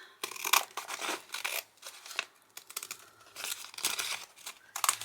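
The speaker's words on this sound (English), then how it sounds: "Let's cut the bags open." Scissors snip through plastic bags in quick, uneven bursts, each cut mixed with crinkling and rustling of the bag material, close and fairly quiet with no talking.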